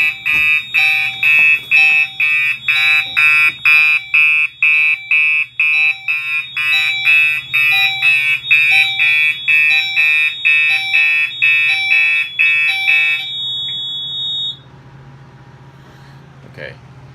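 A fire alarm on a 5820XL system test sounds in a fast steady series of loud electronic horn-like pulses for about fourteen seconds, then cuts off and leaves a low hum.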